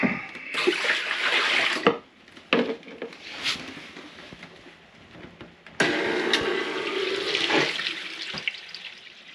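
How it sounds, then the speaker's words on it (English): Water gushes from the hose of a boat water maker. Two loud bursts of flow are heard, one for about two seconds and a longer one later, with a quiet gap of clunks and small handling noises between them. "water's coming out, so the hose is not blocked"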